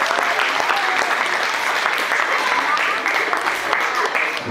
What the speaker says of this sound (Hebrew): אז אני רוצה עכשיו שאנחנו נמחא כפיים לכל אחת מהתחנות.